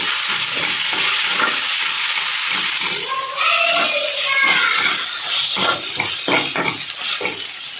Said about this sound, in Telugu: అల్లం వెల్లి పేస్ట్ ఒక స్పూన్ వేసుకుని ఫ్రై చేసుకోవాలి